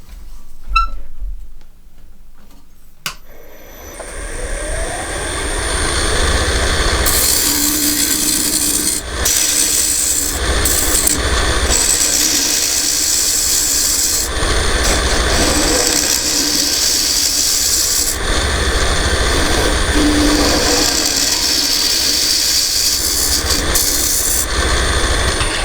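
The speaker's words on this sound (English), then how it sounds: "I'm going to come in with a square scraper and square off the edges" A square scraper works the edges of a wooden box lid spinning on a lathe, giving a steady, continuous scraping rasp close by with the motor's hum beneath. It runs without talk for most of the stretch after a quieter start.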